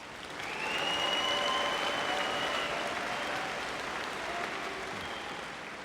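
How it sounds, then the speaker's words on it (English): A large crowd at a high school commencement ceremony claps steadily, a dense, sustained applause that swells then slowly fades, with a faint voice or tone rising over it. "Give these students another round of applause."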